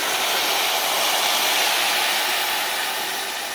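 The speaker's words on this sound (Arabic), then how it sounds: "ننزل بقى بالميه" Steady broadband rushing of water pouring into a cooking pot of rice, continuous and fairly loud for several seconds with no talking.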